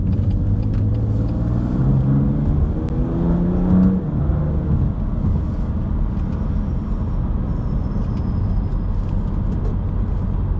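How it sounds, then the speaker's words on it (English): Car with a dual clutch gearbox and metal-backed shift paddles accelerating, giving a loud, steady engine drone and cabin rumble with rising and falling pitch as it climbs through quick gear changes. "You've got those lightning fast gear changes because it is a dual clutch"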